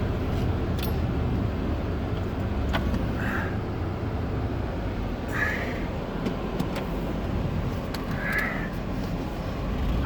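A four-wheel drive vehicle drives through snow with a constant, close, broadband engine and tyre rumble throughout. A few brief crow-like caws cut through in the distance.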